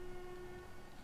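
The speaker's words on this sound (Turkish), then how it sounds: "Tren mi geliyor ya? Bu ses ne?" Low, steady rumble of an approaching train in the horror game Hektor, with a sustained tonal hum running through a one-second stretch without speech.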